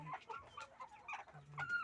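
RTL layer chickens cluck softly in short, scattered bursts, faint and close-by on a small farm.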